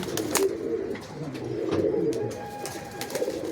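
Teddy pigeons, a pet loft including a Teddy hen and a Teddy-cross cock, coo in low repeated throaty phrases close by, with soft chirps and faint rustling throughout.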